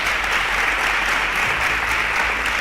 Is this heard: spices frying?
no